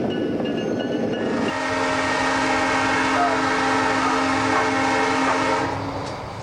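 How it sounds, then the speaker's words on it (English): An older-style train horn is feathered with a slight pull on the cord, letting in just a little air, giving a steady, loud, sustained tone with rail noise running underneath, close by and alone. "Horn feathering is a slight pull on the cord, admitting just a little air, an option on older style horn"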